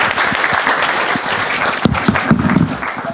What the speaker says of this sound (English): Let's have a wonderful round of applause for Dhruv.